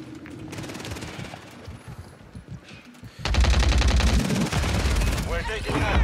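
Gunfire in a video game crackles as rapid automatic bursts, building into dense, loud continuous shooting partway through, with shouted voices mixed in over the battle.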